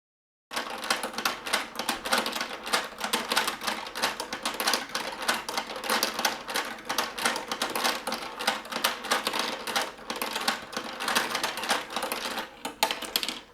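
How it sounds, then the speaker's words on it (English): A hand-cranked GBC mini module ball pump running on its own, giving a dense, steady stream of rapid plastic clicks and rattles that hold at a fairly even level from start to finish. "Okay, so this is how the module works. It works with hand power, or you can set it up with a motor."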